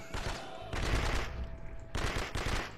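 Sustained automatic gunfire from the game Blood and Bacon, loud and close, in two long bursts separated by a short lull.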